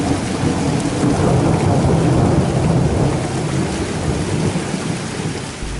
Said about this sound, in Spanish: comencemos por la tormenta.